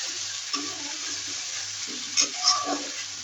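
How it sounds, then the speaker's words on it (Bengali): Salt, turmeric, chili, onion and cumin powder frying together in oil, making a steady soft sizzle with a few light stirring scrapes and clicks, close and moderate in level, no talking. "লবণ হলুদ মরিচ পেঁয়াজ আর হচ্ছে জিরার গুঁড়ো, এগুলো সব কিছু দিয়ে একসাথে কষাই নেবো সুন্দর করে।"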